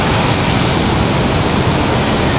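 A Boeing 757 jet taxiing at Raleigh-Durham International airport, a steady broadband roar of engine noise heard loud and continuous throughout, with no voices over it.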